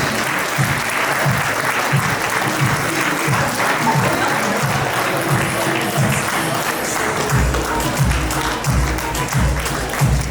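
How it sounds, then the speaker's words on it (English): Audience applause for teachers receiving awards at a school awards ceremony, steady dense clapping from a large crowd lasting throughout, loud and close, with no talk over it. "Can we hear a big round of applause for all these teachers"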